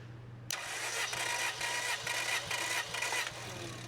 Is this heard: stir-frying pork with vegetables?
no